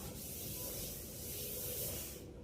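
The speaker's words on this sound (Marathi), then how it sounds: "बेसिन ती घासलं" A wash basin being scrubbed, a steady close rubbing and scouring hiss that runs continuously for a couple of seconds and then stops abruptly.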